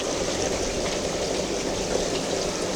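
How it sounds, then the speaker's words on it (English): Water flows through a pressure shower filter in a steady, even rush of spray that holds constant from start to finish. "just water flow noise"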